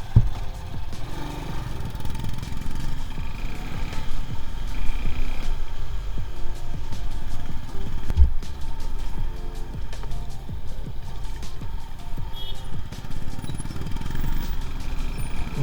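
A motorcycle on a dawn ride along coastal roads near Mangalore, heading toward Kudremukh, its engine droning steadily and close with road rumble and clatter throughout, no voices over it.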